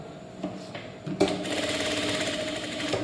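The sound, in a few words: sewing machine stitching blouse fabric pieces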